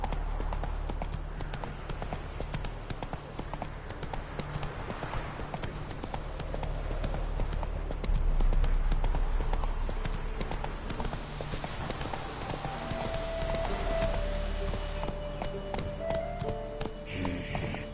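Steady clip-clop of a horse's hooves in a video game on PS4, continuous rhythmic hoofbeats running throughout against a droning background.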